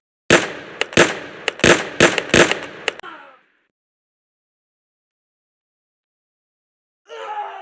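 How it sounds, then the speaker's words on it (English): Several sharp pistol shots from an M1911 ring out in quick irregular succession, loud and close, then fade into silence before a brief burst of other noise near the end. "I heard gunshots."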